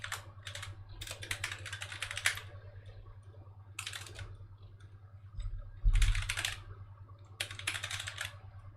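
Bursts of rapid typing on a computer keyboard, close and fairly soft, coming in several short runs of clicking keys with pauses between and a faint electrical hum underneath.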